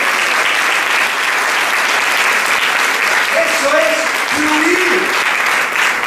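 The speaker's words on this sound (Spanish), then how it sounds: "Aplaudan muy fuerte la palabra de Dios." A Sunday church service congregation claps loudly and continuously for the word of God, with a few voices calling out over the steady applause.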